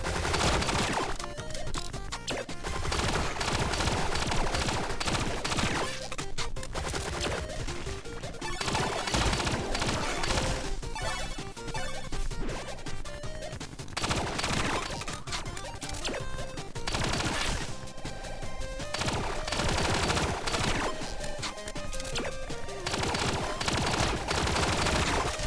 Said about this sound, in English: These guys are real motherfuckers, especially with their SMGs.